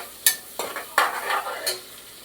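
Onions with green chillies and pulao spices frying in a pan for palak chicken biryani, a steady sizzle broken by several sharp scraping stirs, close and fairly loud, with no talking.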